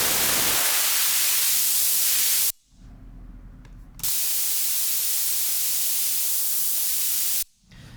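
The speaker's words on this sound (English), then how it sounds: "just add white noise to this whole process" Loud, steady white noise from a synthesizer's generator hisses, drops out abruptly to a low hum for over a second, then returns at full level before cutting out again.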